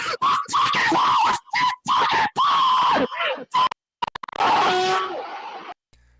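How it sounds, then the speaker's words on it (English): A man screeches loudly in a Discord recording, shrill wavering cries broken into several bursts with short gaps, harsh and distorted as if clipping the microphone. "he just lets go with his nuclear screeching"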